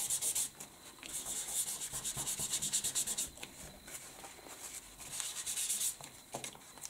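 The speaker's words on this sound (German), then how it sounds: "Ich nehme jetzt einfach noch ein Tuch und gehe mir nochmal ein bisschen über meine embossten Sterne drüber" A cloth rubbed back and forth over embossed paper stars on a handmade card, giving steady soft scratchy swipes in a continuous rhythm, close and fairly quiet with no talking.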